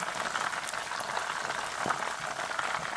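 Sea bass cooking while being basted with liquid, a close, steady bubbling and sizzling wash with faint splashes and no talking.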